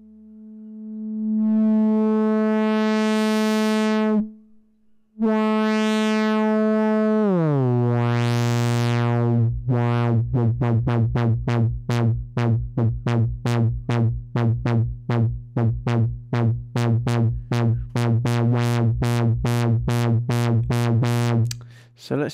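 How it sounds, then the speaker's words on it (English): A hand-controlled sensor sweeps a synthesizer's filter cutoff open: loud, buzzy sustained tones grow brighter, then break into a fast, steady pulsing sequence of bright notes that runs to the end, with no talking. "as you move your hand over the sensor, you'll hear the cutoff frequency start to open like so"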